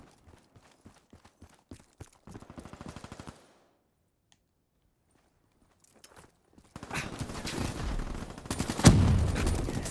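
Gunfire in Call of Duty, quick sparse shots followed by a short automatic burst, a silent pause, then a loud dense stretch of rapid firing and explosions, with faint voices.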